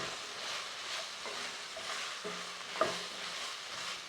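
Pumpkin and onion being stirred as they fry in a pan, a soft continuous sizzle with faint scraping strokes of the utensil and a small clink near the end, close and quiet.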